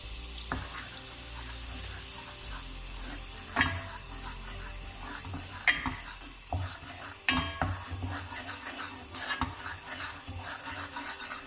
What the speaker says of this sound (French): Faut tourner rapidement la farine